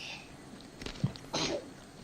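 A single short sneeze bursts out at the table during a Tomb of Annihilation tabletop role-playing session, a brief near burst amid quiet room tone with faint talk in the background.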